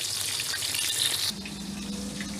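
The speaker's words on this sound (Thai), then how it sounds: "เอาด้านท้ายชิ้นทอดนะคะ" Fish pieces deep-fry in hot oil with a loud, dense sizzle that drops suddenly to a quieter, steady bubbling hiss.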